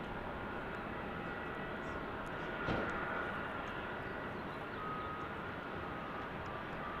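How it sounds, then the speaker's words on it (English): A British Airways Boeing 747 airliner roars steadily at an airport in Salt Lake, a broad continuous engine rumble with a faint whine, heard from a distance without interruption. "the 747 from British Airways"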